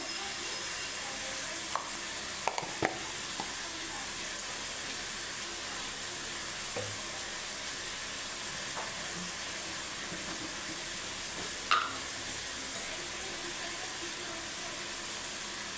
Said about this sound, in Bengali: নুন হলুদ দিয়ে নাড়তে নাড়তে আলুটা সিদ্ধ হয়ে যাবে